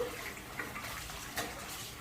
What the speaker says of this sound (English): shut the water off now.